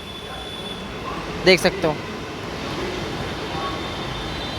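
A Gundavali-bound Mumbai Metro train rolls into the station with a steady, moderately loud rumble, while someone speaks briefly over it.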